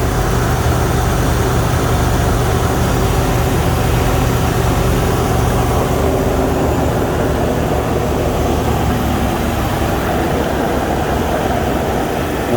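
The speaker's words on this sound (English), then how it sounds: "I don't know if you heard, but it's got an exhaust manifold leak too." 2006 Jeep Commander 4.7 L engine running with an exhaust manifold leak, a loud, steady close-up drone with a constant hum, no talk.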